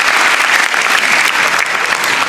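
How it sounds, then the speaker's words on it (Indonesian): A packed crowd claps loudly at a grand final night show, a thick, unbroken wall of applause that stays full and even from start to finish. "tepuk tangan dulu dong"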